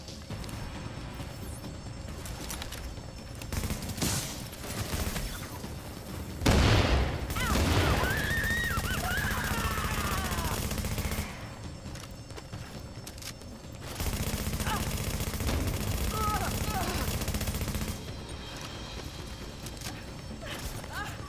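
Gunfire in Tom Clancy's The Division during a firefight against a target in cover, with loud bursts and booms over a steady battle rumble, under shouted voices.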